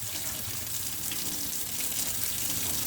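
Warm tap water runs steadily over broccoli sprouts being rinsed, a close, even gush of splashing water with no pauses and no voices.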